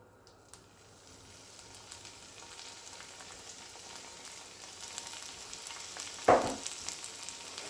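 Peppers sizzle as they fry in ghee in a cast iron skillet over medium-high heat. The soft, continuous crackle swells gradually, with one sharp burst and clatter partway through.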